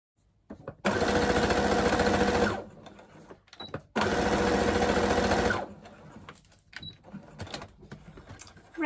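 A sewing machine stitches a tier onto a skirt in two steady, loud runs of rapid whirring of about two seconds each, separated by short pauses with small clicks and handling sounds.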